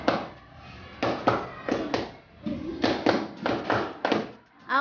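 A group claps hands together in a counted pattern during an icebreaker game, sharp bursts of claps arriving in clusters with short pauses between them, close and fairly loud.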